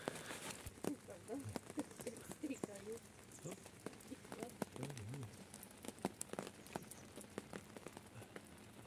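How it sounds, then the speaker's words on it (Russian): Rain patters on a tent or tarp at a riverside camp on the Váh river, with close, irregular drips and taps under people chatting quietly. "Дождь херячит."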